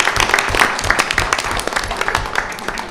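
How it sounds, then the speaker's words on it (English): An audience applauding at a school board meeting, individual claps audible within the steady clapping, moderately loud and continuous. "please join me in giving a round of applause to Principal Jackie Harris and her students."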